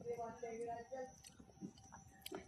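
Close, moist chewing of a mouthful of cooked potato during a home meal of Bengali greens, soft squishy bites in an irregular rhythm, with faint background tones and no talking.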